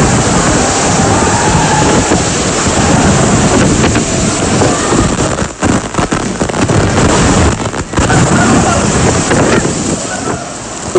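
Loud roaring surf and crashing typhoon storm surge waves from Super Typhoon Haiyan in the Philippines, with heavy wind buffeting the microphone, continuous and intense throughout.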